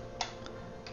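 Fingers tap out a few quick keystrokes on a computer keyboard, soft close clicks spaced irregularly over a faint background hum, no voices.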